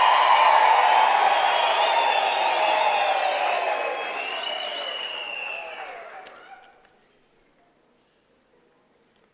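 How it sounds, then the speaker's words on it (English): Graduation ceremony crowd at a UNISA spring ceremony applauding and ululating loudly, a dense sustained wash of clapping and high trilling voices that gradually fades out and ends in near silence. "the last round of applause and the last ululations"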